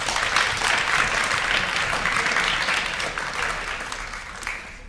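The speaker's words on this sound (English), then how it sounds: "Give yourself a round of applause" Sustained applause from a debate audience fills the room, dense and steady for several seconds before thinning toward the end.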